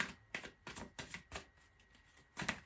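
A run of short, crisp riffling bursts from shuffling cards, about seven in quick succession, each a sharp papery flutter with brief pauses between.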